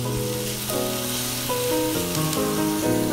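Celery and onion sizzle steadily in a hot pan, a continuous close frying hiss with a faint tonal hum running beneath it, no voices.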